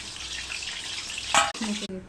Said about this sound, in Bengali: এটা করে দিয়ে দিলাম শাপলাটা, এবার তেলের মধ্যে ছেড়ে দেবো